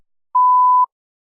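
Single clean electronic tone of about half a second in a TOEFL iBT speaking practice test, loud and steady and alone, with silence on either side.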